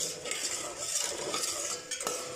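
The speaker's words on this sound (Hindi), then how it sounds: "हिलाते रहना है जब तक सारी चीनी जो है वो अंदर मिक्स नहीं हो जाती" Sugar syrup for gulab jamun is stirred in a pan, a steady scraping and light clinking of a utensil against the pan going on without pause, close and fairly soft, with no talking.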